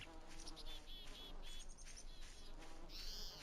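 A swarm of bugs drones around the player in the game Voices of the Void, a continuous buzzing hum with brief higher whines drifting in and out, close and steady, no talking.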